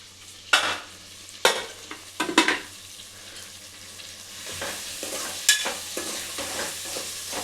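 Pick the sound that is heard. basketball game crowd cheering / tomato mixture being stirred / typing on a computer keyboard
tomato mixture being stirred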